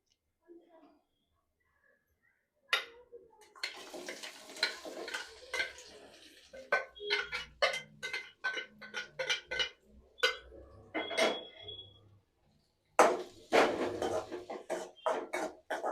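Onion, ginger and garlic frying in hot oil in a pan, stirred with a spoon in bursts of scraping and clinking, with a soft sizzle between the strokes and short pauses of quiet.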